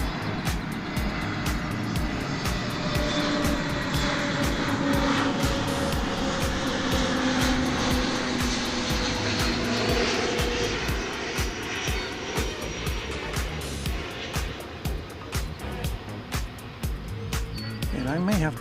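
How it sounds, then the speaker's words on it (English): Airbus A321neo airliner arriving at DFW Airport, a steady loud engine roar and rushing drone sustained throughout, with outdoor ambience. "That was flight 1091 coming in from El Paso, an Airbus A321neo."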